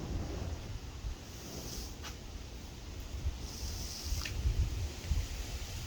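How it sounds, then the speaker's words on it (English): Wind buffets a microphone outdoors during an air rifle shooting session, a steady low rumble that swells and gusts throughout with a couple of faint hissing bursts over the top. "Oh, now the wind's picking up."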